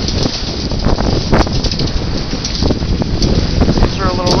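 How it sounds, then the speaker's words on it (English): A strong southerly wind buffets a sailboat running west under jib alone in heavy air, producing loud, continuous roaring gusts and microphone rumble with splashy bursts. "Headed west with a good southerly wind."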